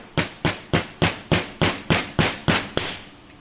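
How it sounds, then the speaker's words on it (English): A mallet taps the head of a long M5 bolt during assembly of a LongMill V2 CNC machine, nine sharp, evenly spaced close knocks in steady rhythm, with no talking. "tap it out with the mallet, and now it's in there"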